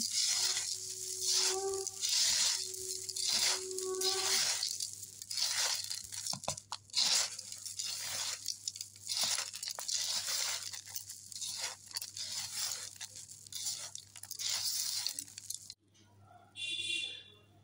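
Puffed rice being tossed and mixed with coconut in a bowl, giving close, steady dry crunching and rustling that goes on and on before stopping near the end.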